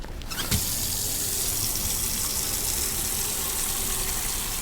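Water pours steadily from a tap into a container in the video game Autopsy Simulator, a loud, continuous gushing rush that starts with a brief clunk and runs unbroken, with no talking.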